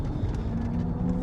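A SEA Electric Hino electric truck accelerating on a smooth paved road, giving off a steady low motor hum with faint road noise, heard from inside the cab.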